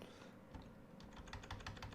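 Fingers tap quickly on a computer keyboard, a close, quiet run of rapid key clicks that gets busier in the second half, with no speech.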